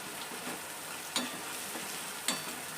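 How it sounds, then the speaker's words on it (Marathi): Cluster bean and tomato curry frying in a pan makes a steady, soft sizzle, broken twice by short scraping clinks of a spoon against the pan. "आपला टमाटा पण आता व्यवस्थित भाजून झालेला आहे"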